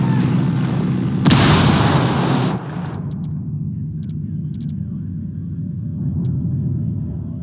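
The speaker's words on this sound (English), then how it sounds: "Grenade, get to cover!" A grenade blast in the video game Ghost Recon Wildlands, a loud broad boom lasting about a second before cutting to quieter rumbling background with scattered faint clicks.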